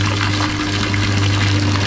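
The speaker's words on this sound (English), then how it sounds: "we should turn the water off" Water runs steadily into a fish tank with a constant close rushing splash, accompanied by a low, even pump-like hum and no talking.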